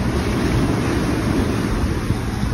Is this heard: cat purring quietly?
no